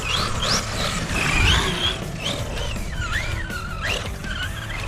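A ZD Racing MX-07 RC car runs on 8S power, its high motor whine rising and falling as it accelerates, skids and turns, loud and close throughout.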